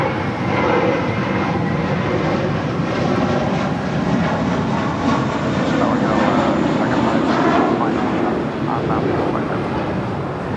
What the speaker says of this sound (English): This departure is American 2110 departing to Boston on an A321